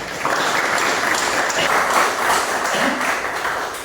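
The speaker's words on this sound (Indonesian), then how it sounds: "Beri tepuk tangan untuk Masnya." An audience at a teacher-training class on CVT transmission components breaks into applause for a presenter, a loud, even burst of clapping that holds for several seconds.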